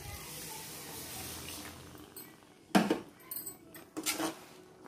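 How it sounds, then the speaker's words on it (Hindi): Half a glass of water is poured into a pan of pav bhaji, a faint watery pour followed by a couple of sharp metallic clatters from the cookware. "अब इसमें हम डाल देंगे करीब 1/2 ग्लास पानी।"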